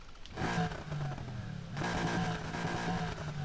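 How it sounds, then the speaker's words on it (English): Stock 7-liter V8 engine in the Need for Speed Heat racing game revving hard in two sustained bursts with a brief dip between, loud and throaty, no talk over it. "this is the stock engine for this 7-liter V8"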